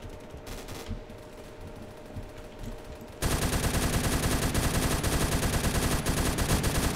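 Gunfire in the Roblox game Phantom Forces, starting as faint scattered shots then breaking into loud, sustained rapid automatic fire with dense repeating bursts for the second half.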